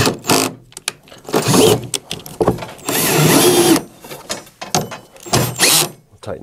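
A power drill drives bolts into a Phoenix DryMAX XL dehumidifier during a level switch and condensate pump replacement, with several whirring bursts of varying length separated by short pauses, close and fairly loud.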